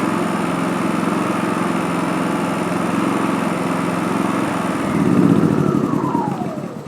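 A WEN 3800 portable gas generator running off a remote fuel tank, its small engine droning steadily with a buzz, loud and close, its tone shifting slightly near the end. No talking.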